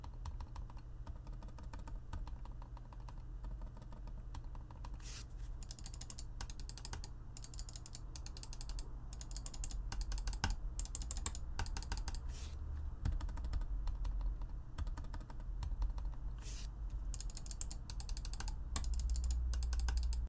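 Sharp, dry clicks of a Logitech MX Master 3S mouse button come in irregular bursts and clusters, fairly quiet, over a low steady hum.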